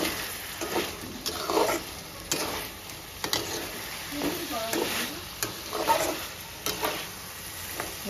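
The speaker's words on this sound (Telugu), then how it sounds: "చూడండి, వాటర్ అంతా వచ్చి బాగా ఉడుకుతుంది." Chicken cooks in a pan with its released water bubbling, heard as a soft sizzle and simmer with intermittent clicks and scraping stirs, fairly close and moderately quiet.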